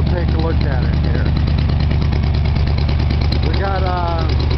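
A 1970 Buick Wildcat fitted with a new crate engine, chrome valve covers and a Holley carburetor idles with a steady, loud, even rumble, while someone talks over it throughout.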